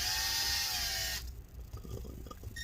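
A power drill whirs loudly and steadily for about a second while backing a screw out of a Lenovo Legion Y545 laptop during disassembly, then cuts off, leaving quiet handling noises and small clicks.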